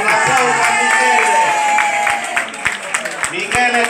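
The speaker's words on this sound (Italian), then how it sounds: "Un applauso a Michele." Applause and crowd noise from an audience at an elderly people's festival in Positano rise over a lively, voice-filled hall, with talk and a raised voice running on top and sharp claps breaking through near the end.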